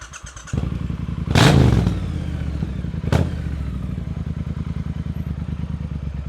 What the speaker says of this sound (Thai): เสียงที่ได้ยินตัวนี้เป็นท่อซาร์ตนะครับใส่ในเครื่องพันสองฮะ